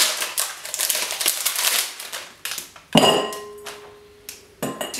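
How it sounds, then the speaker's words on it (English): Cadbury Caramello chocolate block being snapped into cubes, giving sharp crisp cracks and crunches in quick irregular bursts, loud and close, with a brief clatter of pieces and no talk. "you're going to break it into a cube to be melted in the microwave"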